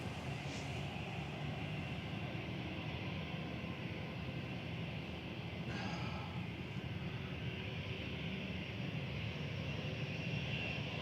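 A Singapore Airlines airliner arriving at Manchester Airport, its engines a steady, moderately distant broadband roar that holds evenly throughout without any voices.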